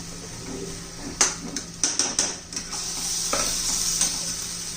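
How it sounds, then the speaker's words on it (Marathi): Eggplant curry is stirred in a pan, with a spoon scraping and knocking against the metal in a quick burst of clatters over a steady background sizzle. "व्यवस्थित मिक्स करून घ्यायचे."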